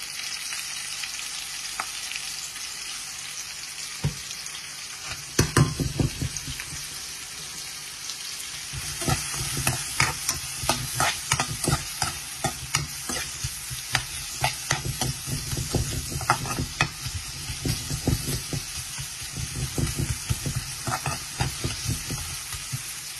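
Frying in a pan with onion, stirred repeatedly over a steady sizzle; busy clattering scrapes and knocks of the utensil grow denser after a quieter opening, no talk.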